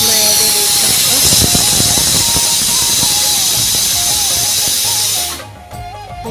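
A pressure cooker on a gas stove releases steam in a loud, continuous hissing whistle lasting several seconds, then cuts off abruptly, with faint clatter and voices in a home kitchen where radish greens are cooking.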